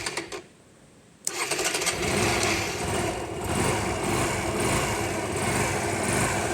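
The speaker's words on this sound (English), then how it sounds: "I've got the choke on. It liked a bit of choke yesterday to start up" A Honda Varadero motorcycle engine on choke is cranked and catches after about a second of quiet, then settles into a loud, steady, fast idle that runs on alone without any talk.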